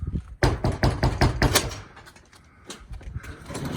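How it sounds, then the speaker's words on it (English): Knuckles rap repeatedly on a door at the Model T Garage in Waverly, Kansas, a quick series of sharp, close knocks followed by a few softer, scattered taps. "So let's knock on the door, see what happens."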